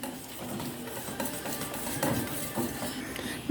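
A spoon mixing custard pudding mixture in a bowl, with soft scraping and light clinks across the whole stretch, ending in a sharper clatter, close and without speech.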